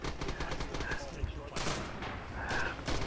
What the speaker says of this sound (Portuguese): E eu tô recebendo uns tiros